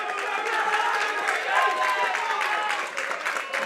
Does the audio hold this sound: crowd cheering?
yes